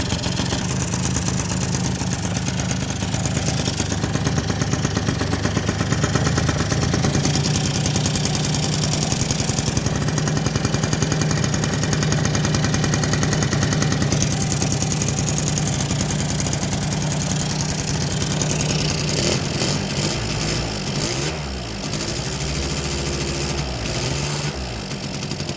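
Polaris Scrambler ATV engine running at a steady idle throughout, loud and continuous with a low rumble, after a reed valve replacement, with no talking.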